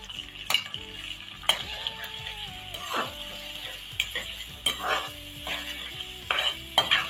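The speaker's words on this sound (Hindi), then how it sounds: "अब इन तमाम चीजों को मिक्स कर लेते हैं।" Onions and salt stirred in a sizzling pan for chicken Mughlai masala: steady frying hiss with repeated spoon scrapes and clinks against the pan, close and continuous, no voices.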